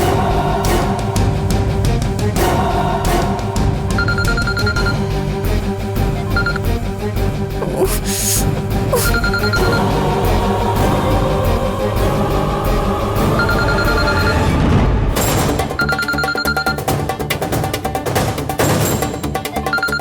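A telephone rings in repeated bursts inside a Malayalam TV serial drama scene, its tone half-buried under loud, continuous dramatic background music.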